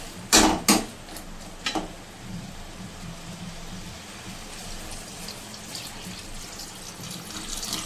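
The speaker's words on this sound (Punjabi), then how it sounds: "ਅਸੀਂ 2 ਗਲਾਸ ਪਾਣੀ ਦਿੱਤਾ" Water from a glass splashes into a pan of potato and soybean curry in yogurt gravy, two or three short, loud, close bursts, followed by a quiet, steady low hiss.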